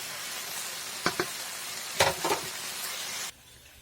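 Spices sizzle in a pan for a vegetarian curry: a constant hiss with a few stirring scrapes, which cuts off abruptly near the end.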